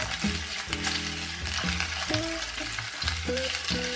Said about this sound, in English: Turn on the fire and put the pork into the pan.